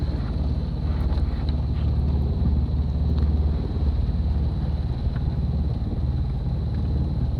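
Steady low engine drone of a sailing boat motoring along the coast at dawn in glassy calm with no wind, a continuous even hum with light wind rumble on the microphone throughout.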